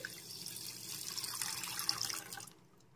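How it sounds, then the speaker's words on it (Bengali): Milk poured into a bowl while being readied for mango sweet curd, a steady liquid splash running close and clear for a couple of seconds before stopping abruptly. "বাটির মধ্যে দুধ ঢেলে নিচ্ছি"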